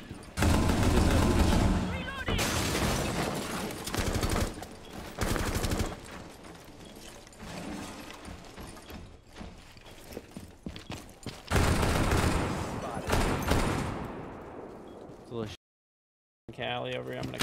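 Rapid bursts of video game gunfire crackle through a busy battle mix, loud and dense, with shouting voices talking over them before a brief dropout near the end.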